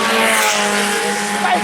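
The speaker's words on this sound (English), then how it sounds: "Ashlyn Bird making the rev limiter coming down the front stretch." IMCA sport compact race car bouncing off the rev limiter along the front stretch of a dirt oval at Salina Speedway, a loud buzzing, stuttering engine whine held for the whole moment.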